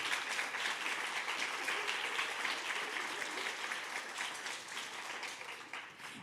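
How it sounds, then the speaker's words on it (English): An audience at a Women in Data Science event in New York breaks into steady applause, a continuous wash of many hands clapping at moderate volume that tapers a little near the end. "get a round of applause"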